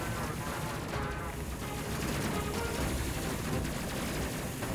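Rapid gunfire bursts from gunners aboard a ship in the Space Crew video game, a dense, continuous crackle of shots that stays fairly quiet throughout.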